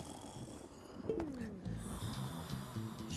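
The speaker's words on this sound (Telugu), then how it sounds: "గురక వినపడుతుంది." A man snores in a scene from the Telugu film Gang Leader, a low rasping snore with a rising wheezy note partway through, fairly quiet and heard alone without talk.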